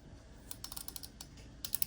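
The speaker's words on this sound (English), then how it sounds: "As the toy itself, as it says, it makes a clicking noise" Star Wars Vintage Collection Tri-Pod Laser mini-rig toy giving a quick run of light, close plastic clicks, about a dozen soft ticks in a row followed by a sharper burst at the end, with no talking.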